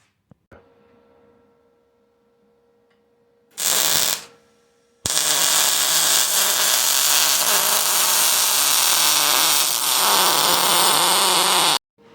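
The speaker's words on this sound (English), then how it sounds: "But I just use a Sawzall to cut this." A Sawzall reciprocating saw cuts through exhaust pipe for a custom Mustang exhaust, a brief loud burst followed by a long, steady, harsh buzzing cut lasting several seconds before it stops abruptly.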